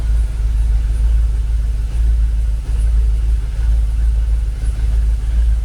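A Jaguar XKR engine, a car that tends to stall after a few minutes, idles steadily at about 800 RPM, giving a loud, continuous low rumble with a faint, even pulse and no talk over it.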